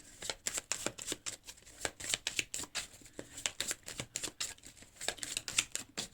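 A deck of tarot cards being shuffled by hand, a quick run of crisp riffling flicks and slaps repeating steadily at close range with no talking.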